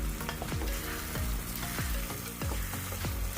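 Marinated chicken pieces drop one after another into a sizzling onion-tomato masala. Each lands as a loud thump and hiss, over a steady close frying crackle, with no voices.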